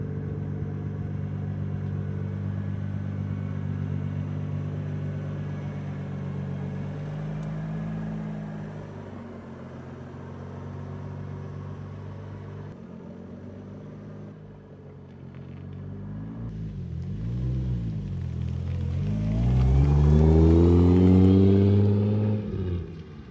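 A Toyota Supra engine idling and rumbling while driving, then rising into a couple of hard revs near the end, loud and close with no talk.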